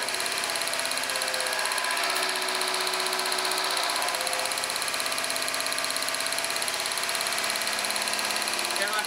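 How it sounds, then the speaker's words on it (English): A car engine runs steadily at a slightly raised RPM during a compression test, a continuous loud hum with no breaks throughout. "So I'm going to bring the engine RPM up just a little bit."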